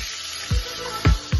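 Bay leaves, cardamom, cinnamon and other whole spices hit hot oil in a pan, giving a steady close sizzle with three sharp spattering bursts as pieces drop in.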